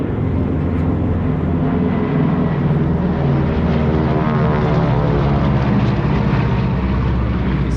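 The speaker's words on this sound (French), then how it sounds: "le C-47, la version militaire du très célèbre Douglas DC-3" A loud, droning Douglas C-47 propeller aircraft engine runs steadily and close by, with a deep throbbing hum and no voices.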